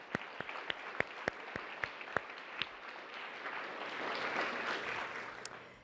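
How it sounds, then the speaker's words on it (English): Scattered individual claps from a small audience at a closing session at Georgia Tech, a few distinct near claps at first, then a faint, diffuse patter that swells slightly before fading. "So a round of applause for all of them."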